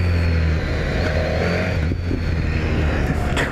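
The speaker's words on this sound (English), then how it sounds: "it popping and cracking." A 2018 BMW S1000R with an aftermarket exhaust is ridden close up, its engine droning steadily on the overrun with faint intermittent pops and crackles near the end.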